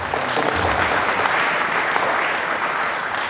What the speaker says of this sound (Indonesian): Saya kira Sampurna perlu dapat tepuk tangan